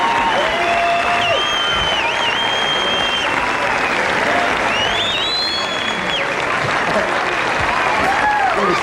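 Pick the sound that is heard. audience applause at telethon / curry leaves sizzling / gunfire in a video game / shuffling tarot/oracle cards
audience applause at telethon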